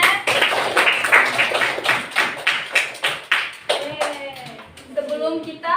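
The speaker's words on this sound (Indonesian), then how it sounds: "Tepuk tangan semuanya." Classroom applause as a group of students claps their hands together in a steady burst of rapid claps, with a teacher's voice following as it fades out.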